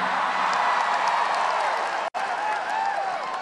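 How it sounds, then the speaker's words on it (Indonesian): Thick, continuous clapping from a big crowd inside Indonesia Arena, loud and even, broken by a brief cut before resuming with scattered whoops and cheers. "Kok tepuk tangannya paling keras"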